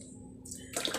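Coconut milk poured from a can into a cooking pot for Jamaican rice and peas, a short liquid splash and glug arriving near the end after a quiet stretch, close and fairly soft.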